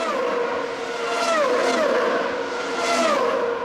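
Several 2003 Formula 3000 race cars battle closely on an Italian circuit, their high-pitched engines whining and sweeping up and down in pitch as they pass and shift gears, loud and continuous.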